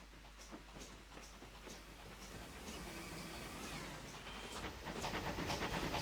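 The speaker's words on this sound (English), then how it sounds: "Oh, we've got a train coming in." A train pulls into a station on the Great North of Scotland line, a steady rumble and hiss building over six seconds with rhythmic clatters, growing louder toward the end, no talk.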